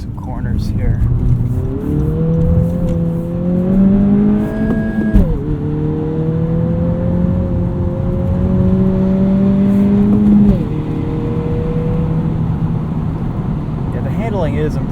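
A 2020 Honda Civic Si sedan on a wet road at night, its engine droning steadily and rising in pitch through the gears as it takes corners, with a sharp dip and recovery between shifts, close and loud from inside the cabin.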